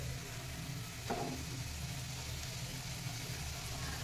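Egg bhurji fries with onion, tomato and spices in a pan, a faint steady sizzle with one brief louder hiss as something is stirred or added.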